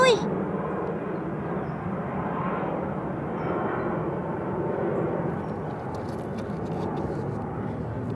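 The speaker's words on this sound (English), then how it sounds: "I can hear a plane." An airplane drones overhead during a hillside hike, a broad, steady rumble that fills the whole clip at moderate level with no talk.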